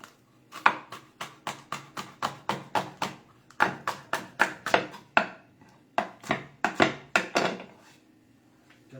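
A knife chops capsicum on a cutting board in a steady run of crisp, close taps, pausing briefly midway and again near the end.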